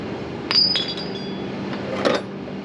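Spare nuts and bolts, including a used shear bolt, clinking against each other: two or three short, bright metallic chinks, close and clear, over a low steady background hum.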